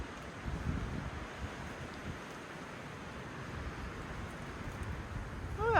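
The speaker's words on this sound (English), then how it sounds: "Oh, that wind is cold." Cold wind gusts across a mountain trail near Jack's Knob and Brasstown Bald in North Georgia, producing a steady rushing roar that buffets the microphone at moderate, fairly even loudness.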